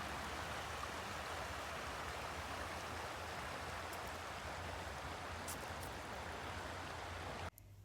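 A river flows past the Riverside promenade in Echternach, Luxembourg, a steady, broad rushing wash of water that holds constant and close throughout, ending with a sudden drop in level.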